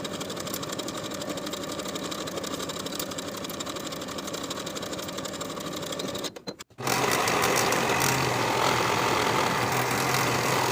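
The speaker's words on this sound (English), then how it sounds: "Sew these curved edges with a 3/8 inch seam allowance and finish the raw edges together." A sewing machine stitching curved pocket bag edges for a pleated skirt, a continuous fast mechanical whir that briefly pauses, then resumes louder and steadier.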